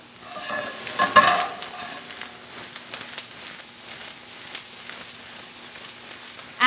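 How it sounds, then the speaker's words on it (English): Onion sizzling and being stirred in a hot pan, a bright crackling fry with a loud burst of spatter early on, then a steadier sizzle punctuated by stirring scrapes, with no talk. "Adding in the onions is actually gonna bring down the temperature of the pan"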